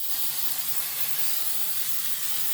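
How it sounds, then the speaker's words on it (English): Canola oil cooking spray hisses steadily onto bread dough, a close, continuous aerosol spray lasting a couple of seconds with no talk. "I'm going to give this a little bit of spray with canola oil."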